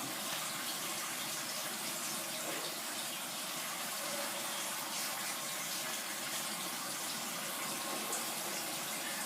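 Plain drinking water pours steadily into a cooking pot, a continuous broadband rushing splash at even volume for the whole stretch, with no voices.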